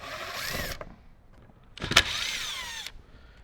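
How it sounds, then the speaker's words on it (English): A power driver whines in two short bursts, backing screws out of a Toyota Tacoma door panel, close up and fairly quiet. "So let's get our screws out first."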